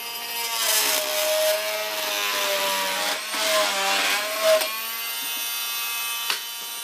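A saw cuts a wooden beam for a pergola tenon, giving a steady, buzzing rasp in two long passes with a brief pause between, ending with a short final bite.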